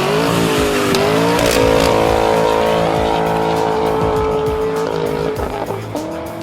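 A 2023 Ford Bronco Raptor fitted with a Kinney's Trail Boss performance dual exhaust roars loudly and steadily, its revs rising and shifting in pitch before easing off near the end, with faint tire noise mixed in.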